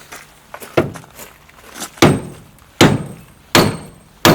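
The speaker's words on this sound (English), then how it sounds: "And now what we need to do is just smash it with a hammer." Heavy hammer blows land on a metal part of a BMW E35, about four loud strikes spaced roughly a second apart, close up, with lighter taps before them.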